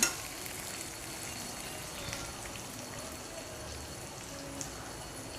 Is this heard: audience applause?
no